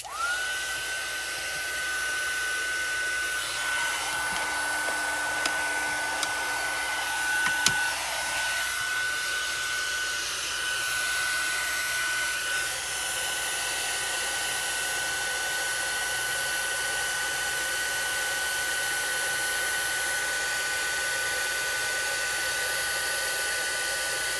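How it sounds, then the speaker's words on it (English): A heat embossing tool heats up while working on a Brusho-painted craft background, giving a steady, close blowing roar like a hair dryer that runs unbroken for the whole stretch with no talking. "I'm going to let my heat tool heat up a minute."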